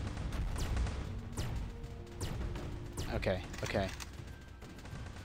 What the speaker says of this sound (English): now your turrets are laying into them